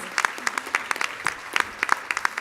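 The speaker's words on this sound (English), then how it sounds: "Let's give Miranda a strong round of applause" Strong round of applause from a student business plan competition audience, a smaller crowd clapping with clearly separate sharp hand strikes in a brisk, uneven rhythm.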